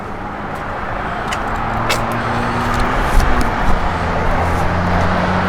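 Idling V8 of a 1967 GMC C15 pickup truck, a steady close rumbling drone with a slight rise in revs partway through, no talking over it.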